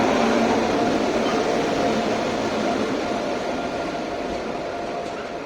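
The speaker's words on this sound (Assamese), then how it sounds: "এইখন আমাৰ ট্ৰেইনখন আহি গ'ল দেই।" A train pulls into New Jalpaiguri station with a steady, close, broadband rumble and rolling noise that holds loud throughout and eases off slightly toward the end, with no talk.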